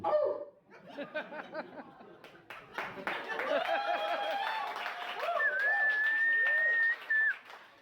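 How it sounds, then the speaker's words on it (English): A comedy-show audience claps and cheers in scattered bursts while a voice talks over the noise and a sharp, sustained whistle cuts through near the end. "And y'all really clap for that?"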